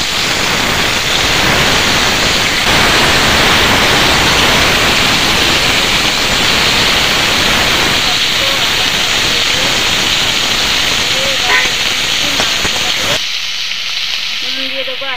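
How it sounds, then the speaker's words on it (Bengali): Onions fry in hot oil, giving a loud, steady crackling sizzle that fills the whole stretch with little change before it quiets near the end. "এবার আমি তেলের মধ্যে দিয়ে দেব পেঁয়াজ।"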